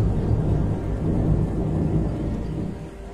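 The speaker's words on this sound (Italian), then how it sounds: "sta piovendo sia nel gioco che nella realtà" Steady rain with a low thunder rumble, heard during a horror game session at night, real weather mixing with in-game storm sounds; a continuous, fairly loud wash with no talk.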